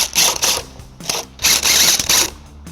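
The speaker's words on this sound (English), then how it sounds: "we're going to remove 3 nuts on each side using a 14mm socket" Ratchet wrench with a 14mm socket spinning nuts off a 2023 Toyota Sienna's bumper beam during a hitch installation: several loud, close bursts of rapid clicking separated by short pauses, with no talk.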